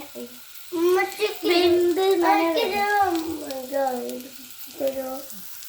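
Bananas fry in a pan with a steady, low sizzle, while voices, including a child's, talk prominently over it most of the time.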